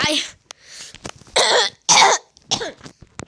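A person with a cold coughs several times in short, harsh bursts close to the microphone, with brief speech between the coughs.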